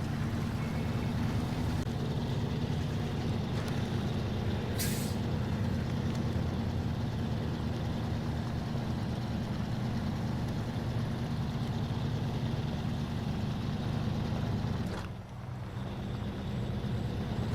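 In SnowRunner, the Fleetstar F2070A truck's engine drones steadily and loudly with its back wheels digging in, a constant low rumble that dips briefly near the end.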